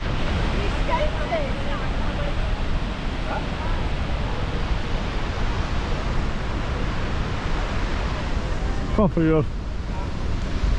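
An Icelandic waterfall on the south coast roars as a dense, steady broadband rush of falling water, loud and unbroken throughout, mixed with wind buffeting the microphone, and a voice speaks briefly near the end.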